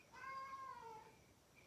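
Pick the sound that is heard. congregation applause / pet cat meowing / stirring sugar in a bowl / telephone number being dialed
pet cat meowing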